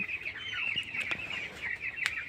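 Roughly 950 broiler chickens, 22 days old, murmur and cluck together inside a farm house, a steady crowded chorus punctuated by a few sharper individual calls and brief taps.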